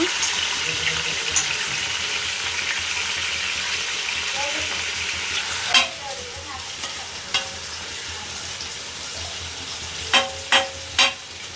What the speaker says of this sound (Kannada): ಚಿಕನ್ಲಿರುವ ನೀರಿನಂಶ ಎಲ್ಲ ಬಿಟ್ಟು ಹಸಿ ಸ್ಮೆಲ್ ಹೋಗೋವರೆಗೂ ಚೆನ್ನಾಗಿ ಫ್ರೈ ಮಾಡ್ಕೊಳ್ಳೋಣ.